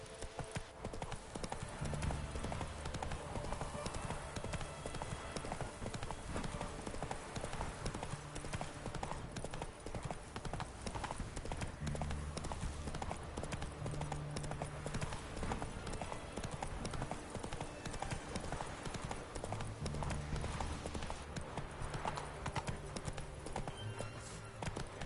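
Horse hooves from The Witcher 3 clip-clop in a steady, fast, even rhythm throughout, close and continuous, over a dense game soundscape.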